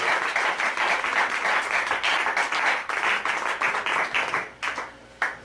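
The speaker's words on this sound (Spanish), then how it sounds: "¿Por qué no le das un aplauso al Señor en este momento?" A church congregation claps and applauds in praise of the Lord, a dense, loud burst of many hands that thins toward the end, with a few scattered final claps standing out.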